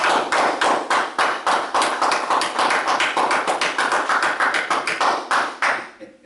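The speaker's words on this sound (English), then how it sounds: "let's give Brother Minister Alonzo X a round of applause" Audience at a Nation of Islam gathering gives a round of applause for a minister, a steady stream of hand claps that fades out at the end.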